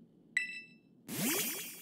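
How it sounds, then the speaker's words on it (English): Pokeball sound effect from the Pokémon Scarlet video game: a bright, ringing ding followed a moment later by a whooshing burst with swooping chirps, fairly quiet and without talk. "That's the sound of a Pokeball."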